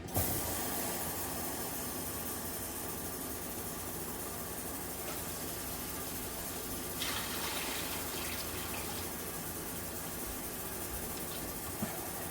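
Water poured into a pot while making homemade dog food, a steady broadband rushing hiss that runs continuously at even loudness, with slight surges midway.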